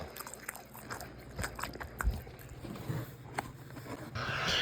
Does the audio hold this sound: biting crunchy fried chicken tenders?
yes